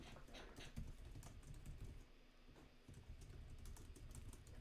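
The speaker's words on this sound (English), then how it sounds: "I'm typing, sorry." Rapid keyboard typing runs steadily throughout during a live-commentated Pokemon Showdown draft league match, a dense patter of close key clicks with no talk over it.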